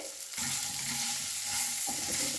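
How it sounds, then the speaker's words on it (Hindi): Onions fry steadily in a pan for paper dosa sambar, a constant crackling hiss, broken by a few scraping stirs of a utensil. "ऑनियन को फ्राई करते हुए 1 मिनट हो गया है"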